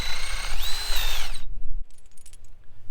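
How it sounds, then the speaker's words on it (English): A power drill with a 3/8 inch paddle bit bores through a wooden trellis pole, a loud steady whine rising as the bit bites for about a second and a half, then cutting off to quiet rustling and faint knocks. "I'm gonna drill a hole through the front of this pole here, through the back."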